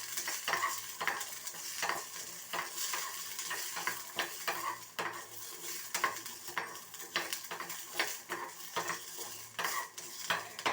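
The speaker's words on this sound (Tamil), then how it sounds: "கொஞ்சம் பொன்னிறமாக வதக்கிக்கணும் பூண்டையும் மிளகையும்." Garlic and black pepper frying in oil in a pan, a steady sizzle with repeated sharp scrapes and clinks of a spoon stirring against metal, close and unbroken by speech.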